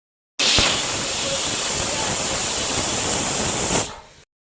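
Steam hisses loudly and steadily from a pressure cooker as dal boils inside, a broad continuous rush lasting several seconds before cutting off abruptly, with no voices over it.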